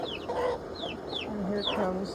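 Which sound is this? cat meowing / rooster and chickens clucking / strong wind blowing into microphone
rooster and chickens clucking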